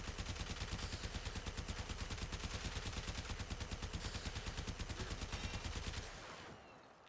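The Fulmin in Warframe fires on automatic, a rapid, even stream of shots rattling out at a fast steady rhythm for about six seconds before cutting off and fading.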